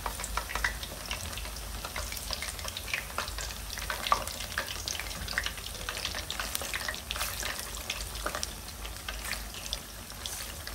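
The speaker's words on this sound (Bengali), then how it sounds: "হাফ ফ্রাই করে তুলে রাখতেছি।" Onion pakoras sizzle in hot oil while half-frying, a dense, continuous bubbling crackle heard up close, with occasional clinks and scrapes and no talking.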